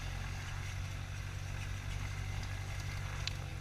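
A steady, droning Super Decathlon light aircraft engine hum fills the clip, constant and unbroken, with no voices.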